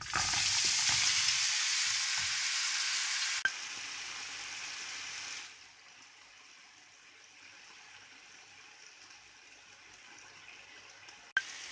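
Okra frying in a pan with roasted cumin gives a loud, close sizzling hiss that drops to a softer, steady fry about halfway through, with a couple of sharp clicks and no voices.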